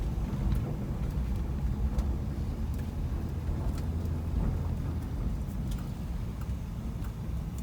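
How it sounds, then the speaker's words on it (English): A 1966 Chevrolet Caprice with a missing trunk seal rolls along, its steady engine and road rumble carrying faint, scattered rattling clicks from the trunk throughout. "You can hear the trunk rattling, can you?"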